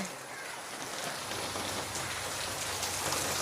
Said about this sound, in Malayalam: പിന്നെ ഇപ്പോൾ ഒരു മഴ പെയ്യുന്നുണ്ട് കേട്ടോ.